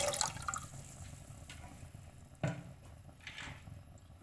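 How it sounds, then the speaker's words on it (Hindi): Three cups of cold water are poured into a pan for Kashmiri pink tea, giving a faint, uneven splashing and dribbling with a few small bursts and drips in a quiet room. "एक पैन में मैं 3 कप मेजर करके ठंडा पानी डाल रही हूँ।"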